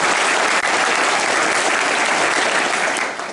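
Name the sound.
soldiers applauding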